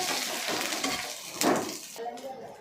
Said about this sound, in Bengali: কচুর বড়াগুলো এমনভাবে ভাজতে হবে যেন ভিতরটা খুব সুন্দরভাবে হয়ে যায়